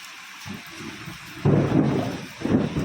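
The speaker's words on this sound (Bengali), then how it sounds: "খুব বৃষ্টি হচ্ছে।" Heavy rain pours close by with a thunder rumble that swells sharply midway, a second surge of downpour following near the end, recorded from indoors.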